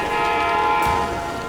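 A loud train horn holds a steady tone over the rumble of a passing train, continuous and close throughout.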